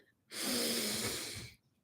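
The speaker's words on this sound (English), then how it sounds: "And breathing in again" A single deep inhalation through the nose during a guided grounding meditation at a live manifestation workshop, close and steady for over a second, with no talk over it.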